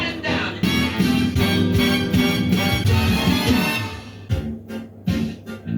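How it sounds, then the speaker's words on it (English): Dense orchestral and piano chords from the A Chorus Line film soundtrack, sustained and clashing, loud and continuous for about four seconds, then breaking into short separate stabbed chords with gaps between them. "Here's a highlight reel of discordant chords in this song that I like."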